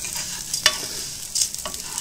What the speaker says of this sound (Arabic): ونشحروا في ديك الزبيده وديك المعلقه ديال الزيت تيولي ذهبي ويولي زوين.